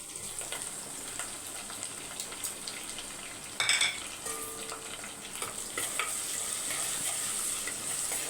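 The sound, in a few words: vadagam frying in oil with curry leaves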